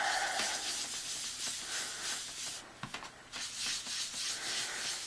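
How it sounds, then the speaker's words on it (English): A sponge burnishes ink over heat-embossed paper in circular motions, giving a continuous soft scrubbing hiss with a brief pause midway, close and fairly quiet, with no talking. "the first thing I'm going to do is sort of a burnishing motion that's kind of a circular motion"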